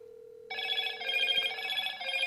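Incoming call ringtone on a Motorola Razr 2024 phone: a faint steady tone gives way to a bright, loud electronic ringing melody that continues to the end, with no talking.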